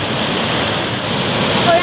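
A river runs steadily at a fishing spot, giving a constant, loud, even rush of water that continues without a break.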